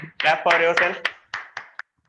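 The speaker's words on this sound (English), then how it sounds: "clap for yourself" A few sharp, irregular hand claps ring out close by right after a brief burst of voices, at the end of an online taekwondo self-defense training class for an evening batch.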